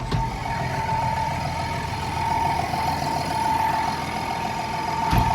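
A Massey Ferguson 6475 Dyna 6 tractor from 2009, with 9,500 hours, runs steadily at a constant drone with a strained, humming hydraulic pump load tone, ending with a faint click.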